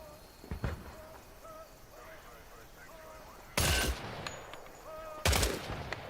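Two loud gunshots at targets in a war video game, each a sharp blast with a short ringing tail, spaced a couple of seconds apart over a quiet ambient bed with small clicks and tones.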